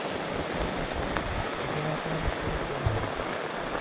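Water at a rolling boil in a pot of wild mushrooms, a steady dense bubbling hiss that stays even and close throughout, with no voices over it.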